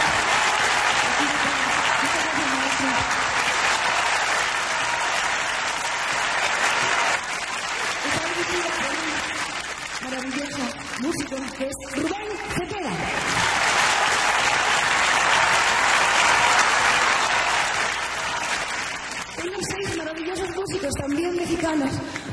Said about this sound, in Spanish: aplauso bien fuerte para esta maravillosa orquesta que tengo